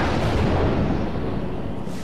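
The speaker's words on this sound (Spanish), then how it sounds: "Los rayos producen explosiones en la atmósfera rica en oxígeno." A loud, rumbling roar of thunder from nearby lightning strikes during a storm fills the whole moment, dense and low, with no voices.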